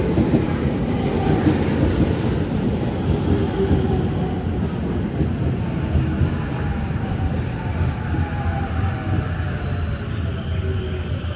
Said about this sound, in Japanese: まもなく1番線に各駅停車中野行きが参ります